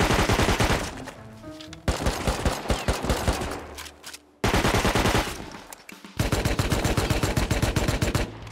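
Custom Tommy gun in a video game firing long rapid automatic bursts, loud and close, with brief pauses splitting the clip into three or four sustained strings of shots.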